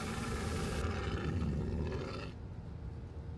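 A lion in the Roblox Pirate Ship Escape game gives one long, loud, rough roar lasting a couple of seconds before cutting off abruptly, heard alone.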